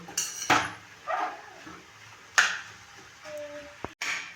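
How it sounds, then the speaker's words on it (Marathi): Khoa being stirred and sautéed in a pan for a peda-like halwa, a few distinct utensil scrapes and clinks against the pan separated by quiet gaps, close by. "खवा टाकल्यानंतर परत परतून घ्यावं आपण छान असं परतून घ्यायचं"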